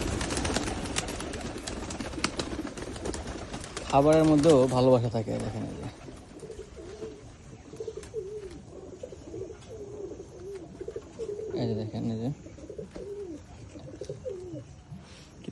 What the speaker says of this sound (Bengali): আবার দেখেন কিছু কবুতর বের করে দেবো এখন।